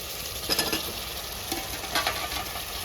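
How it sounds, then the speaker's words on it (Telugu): Brinjal and potato pieces tumble into hot, well-fried masala in a pan, setting off a steady close sizzle with a few louder stirring scrapes and no talk. "ఇప్పుడు వంకాయ ఉర్లగడ్డ వేసుకుంటుందా."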